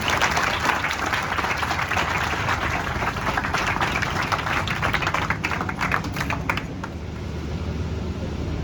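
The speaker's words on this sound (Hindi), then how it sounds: "एक बार जोरदार तालियों से उनका स्वागत कीजिए" An audience at a university function claps loudly in welcome of a visiting political adviser, a dense, continuous patter that holds for several seconds before easing off near the end.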